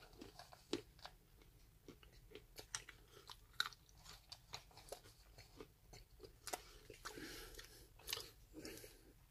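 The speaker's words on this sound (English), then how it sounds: "So let's try the nut and raisin mix" Someone chews a nut and raisin mix from a cold weather MRE ration, with close, faint, irregular crunching and biting that repeats over several seconds without speech.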